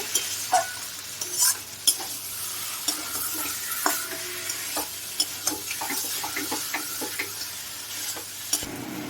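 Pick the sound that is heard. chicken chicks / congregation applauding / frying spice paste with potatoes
frying spice paste with potatoes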